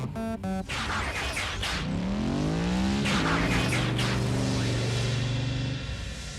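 Animated Transformer car's engine idling then revving and pulling away in Transformers: Prime, a loud rising whine with tire noise following a short series of mechanical clicks at the start.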